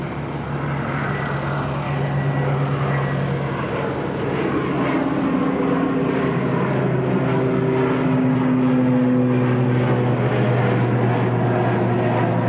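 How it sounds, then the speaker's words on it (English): An ATR turboprop airliner on a maintenance test flight roars down a wet runway at Christchurch Airport on its takeoff run, a loud, steady propeller and engine drone that swells and shifts pitch as it accelerates, with no voices. "we do have an ATR that's literally gone all the way down to the 20 threshold. That's going to be up pretty quick."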